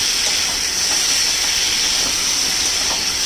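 Drumsticks and potatoes with salt sizzle in hot oil over a medium flame, a loud, steady hissing fry with faint stirring scrapes, close and without talk.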